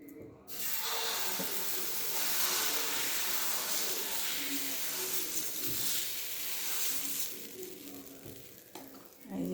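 Water splashed onto a hot dosa griddle, a steady close hiss and sizzle that holds through nearly the whole stretch before easing at the end.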